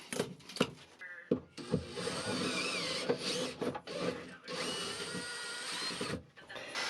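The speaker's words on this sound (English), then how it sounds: "Then I drilled out the old flange bolt holes." Power drill boring out old flange bolt holes through fiberglass on a sailboat, a sustained close grinding whine broken by short stops and restarts.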